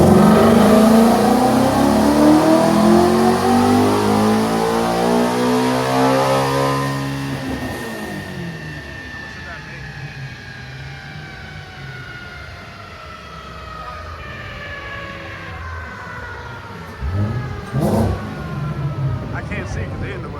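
Ford GT350 engine on a dyno at a performance open house, a loud high-rpm wail that climbs and then drops off, leaving crowd noise and a few short revs later.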